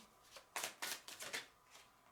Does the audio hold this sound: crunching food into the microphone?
no